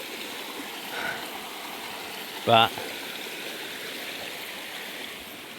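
A small waterfall and stream run over hard igneous rock in a steady, even rushing wash, with a brief spoken word and a short sharp knock partway through.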